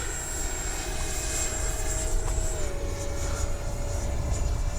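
A Freewing L-39 RC model jet flying, giving a steady high-pitched electric ducted-fan whine with a faint pitch drop midway over continuous outdoor rumble, moderately loud.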